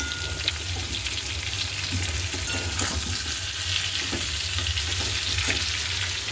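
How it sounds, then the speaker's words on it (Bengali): Potato and papaya pieces fry together in a pan of oil, giving a continuous dense sizzle with soft stirring scrapes, close and steady throughout with no talking. "আলু আর পেঁপে একসঙ্গে দিয়ে দিয়েছি ভাজা করবে বলে"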